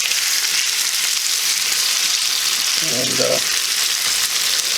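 Hoecakes fry in a hot pan with a loud, constant close-up sizzle as they are flipped over, and a brief spoken word is heard midway.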